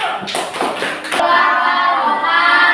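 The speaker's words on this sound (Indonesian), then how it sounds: "Kita tepuk beri tepuk tangan" Classroom group clapping hands for a student about to present, a short burst of claps that ends abruptly after about a second, followed by a steady background hum.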